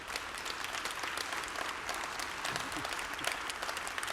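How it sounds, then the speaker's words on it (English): Forum audience gives a round of applause at a risk-management conference session, dense even clapping heard from a moderate distance, holding steady throughout. "a massive round of applause"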